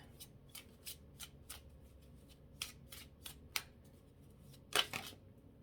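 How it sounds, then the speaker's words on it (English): Earth Children oracle cards being shuffled by hand, a series of quiet crisp riffling bursts at a steady rhythm, close and alone in a quiet room. "I'm going to pull some vibrational Earth Children cards"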